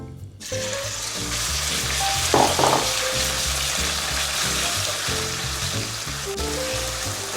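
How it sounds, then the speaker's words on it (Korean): Cooking oil and chili oil heating in a frying pan, producing a loud, steady close sizzle with a brief burst of sharper crackling partway through and no talking. "식용유 좀 두르시고 고추기름, 식용유 한 스푼, 고추기름 한 스푼."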